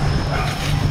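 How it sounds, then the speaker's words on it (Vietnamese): Dogs barking from a house nearby in a rural area of Cu Chi, a dense steady mix of yips and whimpering barks that fills the whole moment with no talk over it. "Ở bên trong kia là nhà ba chó nó sủa đó bạn."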